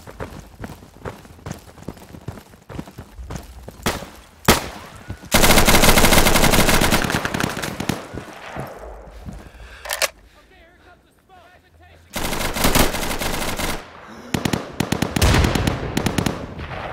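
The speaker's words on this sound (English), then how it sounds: "Taking sniper fire in the tower." Automatic and single-shot gunfire from the tactical shooter Insurgency, sniping on the Panj map: loud bursts and cracks in dense clusters, with sustained rattling volleys and quieter gaps between.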